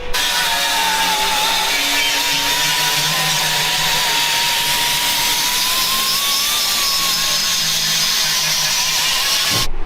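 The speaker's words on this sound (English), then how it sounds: "Now we'll go through and grind them all." An angle grinder works over holes in the body of a Chevy Blazer truck, a loud, continuous high whine with a wavering pitch that barely lets up for nearly ten seconds, close by and without talk.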